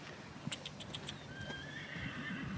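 A horse whinnies back in response to being called, a bright quavering neigh in a rapid series of pulses, fairly distant outdoors, followed by faint birdsong-like whistling.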